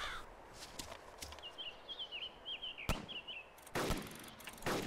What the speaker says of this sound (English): Well, someone's shooting.